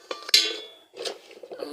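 A metal bowl from an electric cooking pot is handled close by, giving a sharp clink followed by a ringing tone that fades, then softer knocks and rattles of the bowl being moved.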